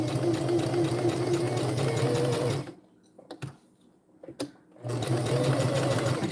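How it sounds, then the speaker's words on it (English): A sewing machine stitches a dress in steady bursts, its rapid mechanical whirr running loud and close, stopping for about two seconds with a few clicks and handling sounds, then starting up again. "I may not go live later because I'm in the middle of dress sewing"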